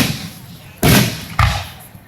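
Two fireworks explode in quick succession, loud booming thuds about half a second apart, with a faint crackle trailing the second blast.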